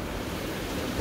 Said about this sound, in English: It's quite big waves, but wind is calming down a bit.